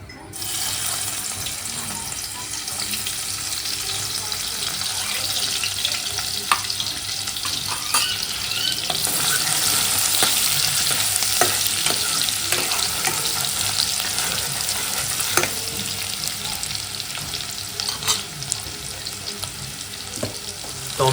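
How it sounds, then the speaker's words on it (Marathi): Spices for tempering sizzle and crackle in hot oil while a vegetarian dish is cooked at home. A steady, close frying hiss carries small pops and clinks of stirring throughout. "सगळ्यात पहिले तर फोडणी देऊया मस्त"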